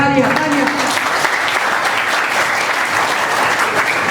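A crowd breaks into sustained, loud applause at a Pakistan Independence Day event at an orphanage, filling the whole stretch after a brief spoken moment.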